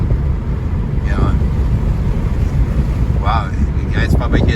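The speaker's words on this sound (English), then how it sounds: "you guys probably hear the wind gusts here" Strong hurricane wind gusts from Hurricane Ian at ground zero batter the microphone in a loud, continuous roar, with a few brief higher streaks, and no talking over them.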